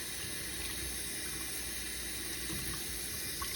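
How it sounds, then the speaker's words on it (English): Warm water runs steadily from a tap over a Lamy 2000 fountain pen cap being rinsed, in a constant, soft hiss with no break or other sound. "I'm going to just simply rinse this with some warm water."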